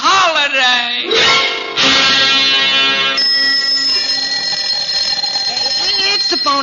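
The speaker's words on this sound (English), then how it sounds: "It's the phone." A telephone in a cartoon scene rings with a loud, shrill, continuous bell-like tone that rises and steadies, while a voice talks over it.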